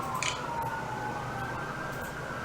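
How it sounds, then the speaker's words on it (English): An emergency siren wails steadily through a downtown area, fairly distant and sustained over constant city background noise. "There's another siren."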